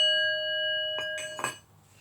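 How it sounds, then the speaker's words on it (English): A small handheld bell is struck during a self-love tarot-style reading, giving a sustained bright ring with overtones, followed by a few quick, rattly strikes near the end, close and moderately loud with no talk. "let's ring his bell again"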